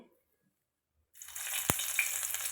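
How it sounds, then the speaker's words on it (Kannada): Stuffed bitter gourd going into hot oil on a low flame: silence, then a sudden sizzle with one sharp knock, settling into a steady close frying hiss. "ಇದನ್ನೀಗ ನಾವು ಸಣ್ಣ ಉರಿಯಲ್ಲಿ ಫ್ರೈ ಮಾಡಿಕೊಂಡ್ರೆ ಆಯ್ತು"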